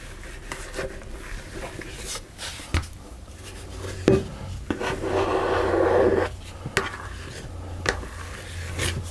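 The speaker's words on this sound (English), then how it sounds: "Just going to scrape the excess out of the bowl." Dough being scraped from a bowl while making seeded rye bread, heard as scattered close scuffs and knocks, then a steadier rasping scrape of several seconds, with a few soft taps afterward.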